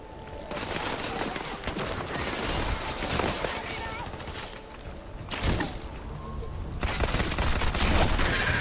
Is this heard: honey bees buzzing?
no